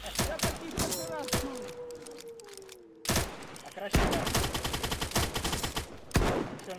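Rapid bursts of gunfire in the video game DayZ crackle and pop almost continuously, with sustained automatic fire and sharp shots, while a voice talks over the shooting.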